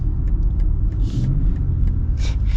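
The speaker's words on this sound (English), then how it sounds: "Transmission's so aggressive with this. And see how this inline 6 performs?" A BMW X3 M40i with its inline-six engine in sport mode gives a deep, steady engine rumble from inside the cabin, with light ticks and a couple of brief hissing bursts over the drone and no talking.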